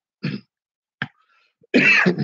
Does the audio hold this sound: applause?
no